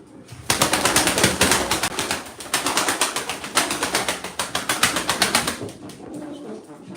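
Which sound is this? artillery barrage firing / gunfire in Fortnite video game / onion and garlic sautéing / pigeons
pigeons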